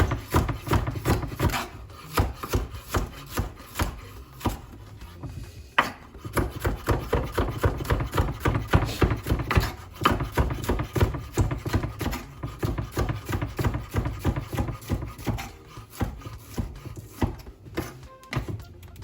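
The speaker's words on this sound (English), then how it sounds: "I'm cutting these in long strips." A knife cutting food into long strips for a Jamaican breakfast of festival, salt fish and beans, sounding as steady, close chopping strokes on a board that repeat through the whole stretch with no talk.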